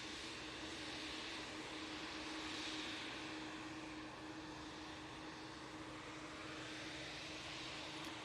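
A TUI Boeing 787-8 Dreamliner departing Manchester Airport, its engines a steady broad roar with a sustained hum, fairly distant and constant throughout, no talk.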